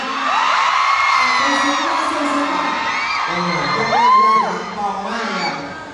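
A large concert crowd screams and cheers continuously, high shrieks and whoops rising and falling, with a louder swell of yelling partway through.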